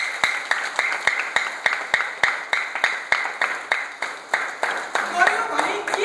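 Rhythmic unison clapping from a gathered crowd at a motivational training event for a social service ashram, steady beats about every quarter second, fairly close and clear, loosening into scattered claps and murmurs near the end.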